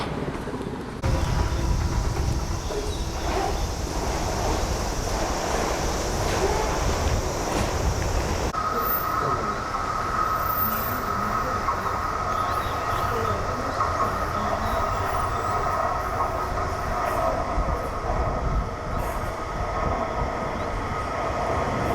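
A train rumbles at a station in Matsushima before boarding, a loud, steady roar with rattling and hiss that settles into a quieter hum and a tonal whine midway, with some voices nearby.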